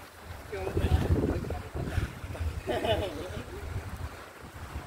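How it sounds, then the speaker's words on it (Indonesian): Strong, steady wind gusts roar across the slopes of Gunung Butik and Hanjawong on an overcast mountain day. A voice speaks briefly under the rushing noise. "Anginnya gitu kenceng."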